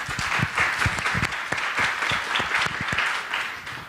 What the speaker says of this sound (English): let's welcome him with a big round of applause.